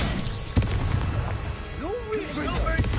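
An Incendio fire spell goes off during a Hogwarts Legacy combat fight, with punchy blasts at the start and end over a busy bed of battle noise, swooping effects and voices.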